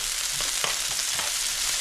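Fish goes into a hot pot and sizzles, a loud, steady close hiss with a few soft bumps and clatters.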